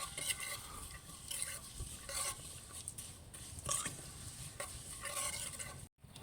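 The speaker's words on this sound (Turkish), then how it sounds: "tereyağında şehriyemizi kavuruyoruz" Vermicelli toasting in butter while being stirred in a pan, a soft steady sizzle with repeated scraping strokes of a spoon, close and fairly quiet.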